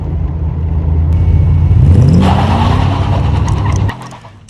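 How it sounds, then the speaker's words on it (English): A Morgan Plus 8's V8 engine burbles loudly and close with the roof down, its steady rumble rising in pitch as it revs, then dropping away sharply near the end. "Got the roof down, the V8 burbling away"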